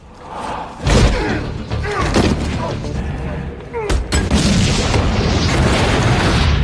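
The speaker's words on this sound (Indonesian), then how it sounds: "Ethan terpaksa melepaskan satu granat dan..." A grenade blast in an action film scene: a sudden heavy boom near the start, followed by loud rumbling impacts, thuds and crashing debris, with dense cinematic noise continuing throughout and a second sharp burst midway.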